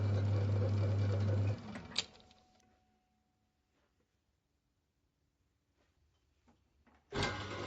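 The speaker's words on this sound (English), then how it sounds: "Form a diamond knurl in the centre portion." A workshop lathe forms a diamond knurl on a pen body, giving a loud steady mechanical whir and hum that stops with a clunk, leaves near silence with faint clicks, then starts again abruptly.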